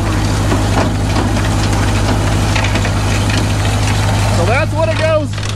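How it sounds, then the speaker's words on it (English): A tractor engine idles steadily with a low, rumbling pulse as it drives an 1800s rock cruncher through a very slow PTO, running continuously throughout, with a voice speaking over the top near the end. "This tractor here has got a very slow PTO on it."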